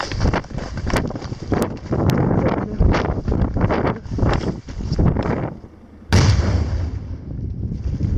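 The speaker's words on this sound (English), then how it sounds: "Test 3 was 1 stick of dynamite and 2 bags of ammonium nitrate." A charge of one stick of dynamite and two bags of ammonium nitrate buried under a large slab of rock goes off outdoors as a sharp blast followed by rumbling debris, with wind noise on the microphone throughout.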